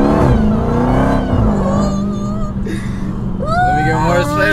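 A Dodge Hellcat 300 engine revs hard under acceleration, rising and falling through gear shifts with a loud, close, continuous roar, while people talk over it.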